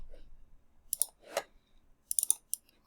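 Calculator buttons pressed to enter 14 cosine 38 for a trigonometry side calculation, giving a few quiet, separate clicks followed by a quick cluster of taps, close by and heard alone.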